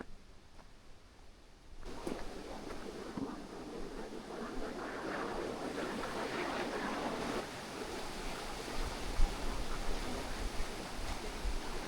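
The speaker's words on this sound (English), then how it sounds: "Kind of river, you can hear it." A river flowing near Cawdor village, a stone-cottage village near Culloden Moor, gives a steady broadband rush of water that swells slightly after the first couple of seconds and keeps a continuous wash with no talk.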